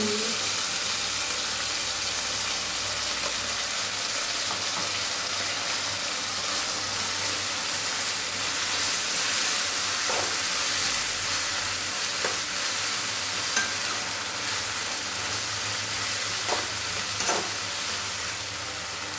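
Ginger garlic paste sizzles and fries steadily in a pan while chicken fry is being made, a continuous close crackle with a few faint stirring scrapes and no talking.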